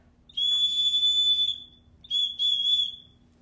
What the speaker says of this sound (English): It's a single piece of banded agate that was carved into a whistle